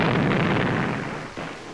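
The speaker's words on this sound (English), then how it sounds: "But the Red Cross hospital came itself under bombardment" Bombardment of a Red Cross hospital in early actual war footage, a dense roaring rumble of explosions that stays loud and slowly fades, with a brief thump near the end.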